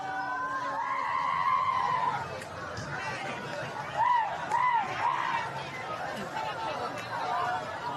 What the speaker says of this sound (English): Look at these people screaming.